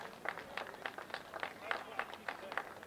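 Spectators at a soccer match between Cincinnati Dutch Lions FC and Derby City clap for an injured player, a moderate, somewhat distant patter of hands with a faint crowd murmur.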